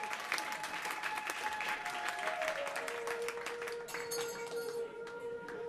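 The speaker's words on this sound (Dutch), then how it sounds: "Een groot applaus." A radio studio audience applauds warmly after Bhutanese music, dense clapping that stays steady and then thins slightly toward the end while a tonal sound drifts underneath.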